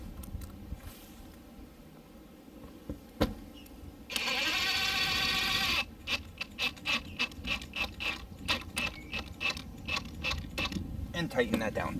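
Metal screw tightened down through butyl tape and silicone on a school bus roof vent, a burst of steady whirring followed by quick repeated ratcheting clicks, close and alone.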